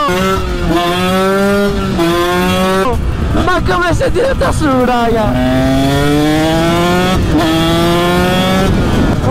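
A KTM SX 125 two-stroke motocross bike revs hard close by, its pitch sweeping up and down through several throttle blips, with a short choppy stretch in the middle and someone speaking briefly over it.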